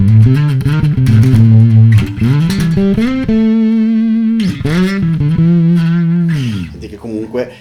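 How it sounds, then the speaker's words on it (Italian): A bass guitar plays through a preamp drive alone, without the octaver, producing aggressive, distorted notes that slide and sustain in a loud, steady line for several seconds. "Se tolgo l'octaver,"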